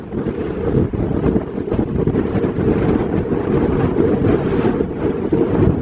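Strong wind on the shore at Martha's Vineyard, buffeting the microphone with a loud, steady low roar and gusty rumble that runs the whole time, with no voices over it.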